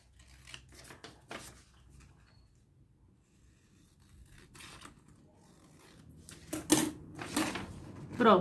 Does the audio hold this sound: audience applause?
no